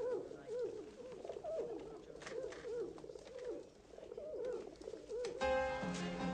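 Domestic pigeons coo in a repeated series of soft, rolling calls close to the microphone, with several overlapping birds, followed by a brief burst of unrelated sound at the end.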